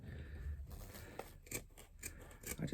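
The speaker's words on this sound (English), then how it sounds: "I think I may have to resort to my bigger scissors." Close, quiet scissor snips cut through paper or fabric in a quick irregular series, with soft rustling between cuts.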